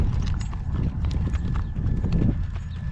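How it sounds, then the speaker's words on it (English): Two gray horses walk on a farm outside a barn on a gale-force windy day, their hooves clip-clopping in a steady, close, uneven rhythm, with a faint neigh in the background. "Those are Pat Puckett's 2 horses."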